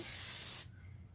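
A short, close hiss of hairspray from an aerosol can lasts about half a second, then cuts off abruptly, leaving quiet room noise.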